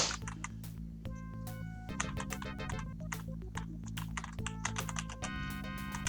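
Computer keyboard keys clack in quick, uneven bursts as someone plays the Dark Sun role-playing game Crimson Sands. The close typing mixes with faint tonal game sounds.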